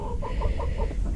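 Roosters and chickens cluck close by in a rapid run of short, repeated calls over a low background rumble, with no talking.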